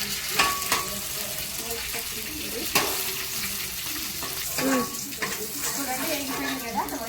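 Grated coconut and red chillies fry in a pan with a steady broadband sizzle, while a spoon scrapes and stirs in sharp intermittent knocks, and a voice speaks quietly underneath.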